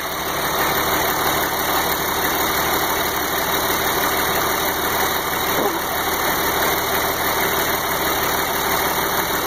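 A straight-piped 880 engine idling after a cold start, a loud, continuous, rough rumble with steady tone and no pauses, close by.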